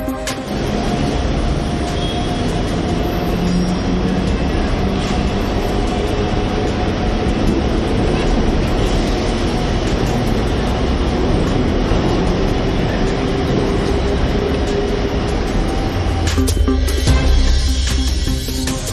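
An elevated suburban passenger train rumbles steadily along the rails throughout, a loud continuous roar with a brief rattling swell near the end.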